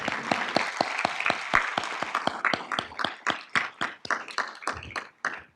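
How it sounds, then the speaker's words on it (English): Scattered applause from a modest audience at a symposium welcome: distinct individual claps at first, thinning into a few separate hand claps that trail off toward the end. "We can have a round of applause."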